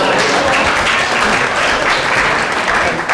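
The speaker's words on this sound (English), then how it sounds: "We can give him a round of applause." Loud, dense audience applause fills a school district annual meeting, steady broadband clapping from many hands throughout with no pause.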